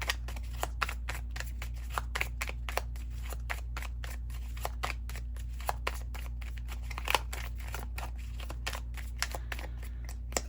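Oracle cards being shuffled by hand, a rapid run of crisp riffling flicks and snaps repeating steadily at close range over a low constant hum, with no talking.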